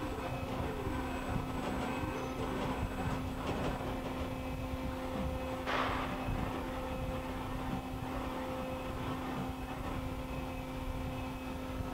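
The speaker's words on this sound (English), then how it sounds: "The ball screws and drives, servo motors all sound quiet." A Fanuc Robodrill long-bed CNC vertical machining center, model A-T21iDL, runs with a steady, even mechanical hum from its servo motors, ball screws and drives, a constant whine with a tonal line underneath and one brief faint clunk midway.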